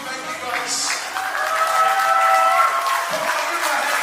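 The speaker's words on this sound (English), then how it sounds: "Let's give a clap for the worship team" Applause for the worship team at a Samoan night youth crusade, a steady wash of crowd clapping and cheering with a voice speaking over it.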